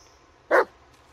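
A dog in Blair Witch (2019) gives one short, sharp bark alone against quiet background ambience.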